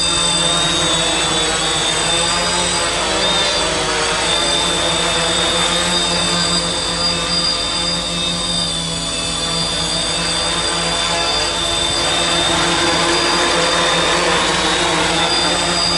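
A heavily modified Quadcopter 450 drone hovering nearby, with a steady, loud, high-pitched motor and propeller whine that holds without pause throughout.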